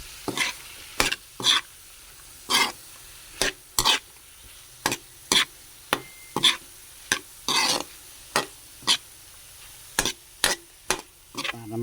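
Ground pork with carrots and tomatoes sautéed in a pan for grilled stuffed squid, heard as repeated sharp scraping stirs in a steady rhythm over a low sizzle, close and clear with no talking.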